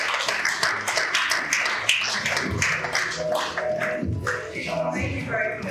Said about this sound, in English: A round of applause for her one more time.